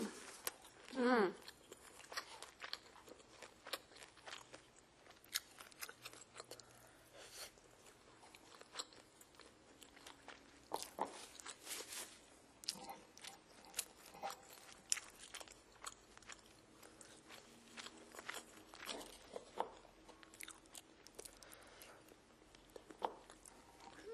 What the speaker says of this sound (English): I peel off the shrimp